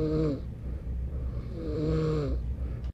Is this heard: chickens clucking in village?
no